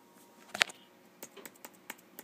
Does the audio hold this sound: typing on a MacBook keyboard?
yes